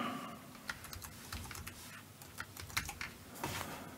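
Someone types a password on a computer keyboard while installing point-of-sale software: a quick, uneven run of close, crisp key clicks for about four seconds, with no talking.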